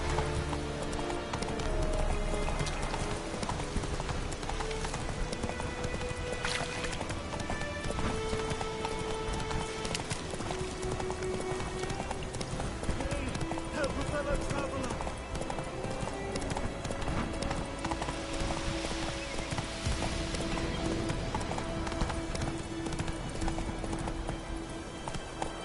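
Rhythmic clip-clop of a galloping horse in The Witcher 3: Wild Hunt, continuous and steady throughout, blended with game music and ambient sound.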